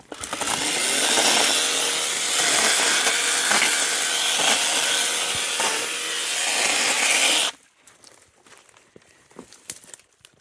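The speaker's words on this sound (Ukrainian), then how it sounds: "Як ріже макітка. Які оборотики." A Makita chainsaw running at high revs cuts through pine outdoors in a Ukrainian village, a loud steady buzzing rasp for about seven seconds that stops abruptly, leaving faint knocks and rustles.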